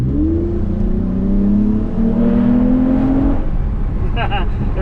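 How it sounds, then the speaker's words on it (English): A Toyota Camry's aftermarket exhaust revs loudly and steadily up close, its engine tone rising and falling with throttle, ending in a brief higher whine. "There's a little exhaust."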